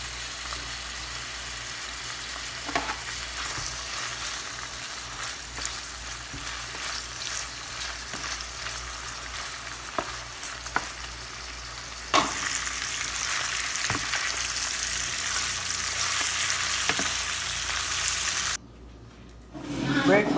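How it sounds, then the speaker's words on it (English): Plantains fry in a pan during a breakfast of ackee and saltfish with roast breadfruit, giving a steady close sizzle with occasional stirring scrapes, louder in the second half, before cutting out near the end. "Also frying some plantains for the next breakfast."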